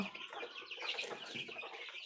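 Three white roosters on a farm cluck softly and continuously at a faint, moderate distance, with no talking over them.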